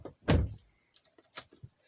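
A door on a 2006 Ram 3500 diesel pickup slams shut once with a solid, close thunk, followed by a few light clicks and rattles.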